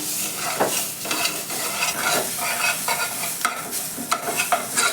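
Broken wheat (dalia) is stirred and roasted in a pan over low heat, with continuous scraping strokes and soft dry sizzling, close and clear with no talking.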